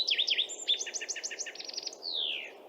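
A recorded bird song played back, ending in a long descending note likened to a red-winged blackbird's: a rapid series of clear chirps and trills rising and falling, then a smooth downward-sliding whistle, loud and close with no talking.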